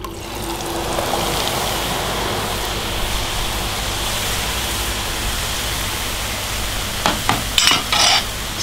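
Beaten eggs fry and are scrambled in a pan with a slotted spatula, a loud steady sizzle heard close up throughout, with a few brief scraping clinks of the utensil near the end.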